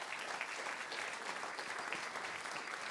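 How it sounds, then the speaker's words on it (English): Church congregation at a Sunday morning service claps in a continuous, even patter, fairly soft and distant, with no voices rising above it. "Let's give them a round of applause"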